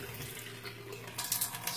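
Water runs from a tap in a steady stream, a soft, hissing splash that grows slightly busier toward the end as the flow is disturbed, with no voices present.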